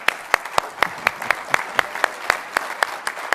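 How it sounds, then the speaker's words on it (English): Applause from a meeting audience greeting a volunteer called up on stage at a 2016 convention, heard as a sparse, steady run of individual claps close by, fairly thin rather than a full roar, lasting a few seconds. "Let's give this person a round of applause."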